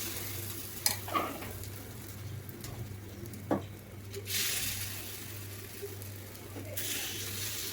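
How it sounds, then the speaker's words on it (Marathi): Ragi batter sizzling in oil in an appe pan: a soft hiss that swells after a few faint clinks and taps, with a low hum beneath and faint cooing in the background. "अप्पे पात्रामध्ये थोडंसं तेल घालूयात आणि अशा प्रकारे यामध्ये हे बॅटर टाकूया"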